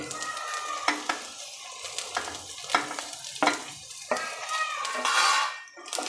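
Fried okra and potatoes are stirred in a pan, with a steady sizzle under repeated sharp spatula clacks and scrapes against the metal, close and distinct, ending in a brief louder sizzling burst.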